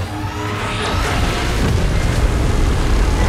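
Godzilla firing a beam in the PUBG Mobile video game: a loud, sustained roaring blast with a rising whoosh, filling the whole few seconds with dense rumbling noise.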